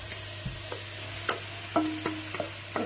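Vegetables and mushrooms frying in a pan for a vegan bolognese, with a soft steady sizzle punctuated by several close spoon stirs and scrapes. A low hum runs underneath and no one speaks.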